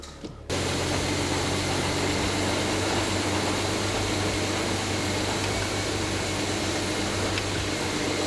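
BMW engine starting up and settling into a steady idle, a sudden onset followed by an even, continuous hum heard close by without talk.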